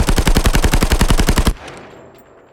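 Rapid automatic gunfire from a weapon in the mobile shooter game Call of Duty Mobile: a loud, steady burst of roughly a dozen evenly spaced shots that stops abruptly after a second and a half, leaving a fading ringing tail.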